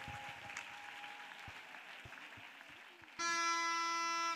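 A church congregation claps together as an offering of praise during a service, a dense, steady wash of many hands. It ends abruptly in a loud sustained tonal tone at the close.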